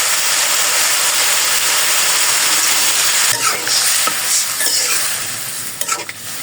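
A vegetable curry sizzles loudly and steadily in a pan while it is stirred, with scraping strokes breaking through the hiss and the frying easing slightly toward the end.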